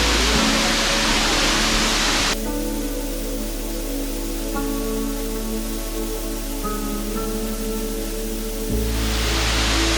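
Ng Tung Chai waterfall, the middle fall on Tai Mo Shan, pours as a steady broadband rush of water. It sounds close and loud throughout, with brief faint background tones and no speech.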